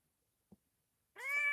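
A cat inside a carrier lets out a single clear meow near the end, preceded by one soft thump in otherwise quiet surroundings.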